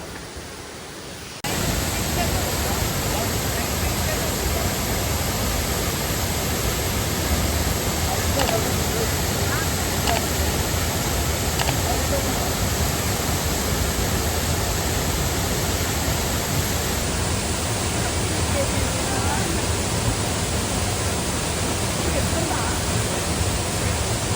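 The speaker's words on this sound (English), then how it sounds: "Great Waterfall of Corona." The Great Waterfall of Corona in Italy roars as a dense, steady broadband rush that starts abruptly and stays loud and constant, close and enveloping throughout.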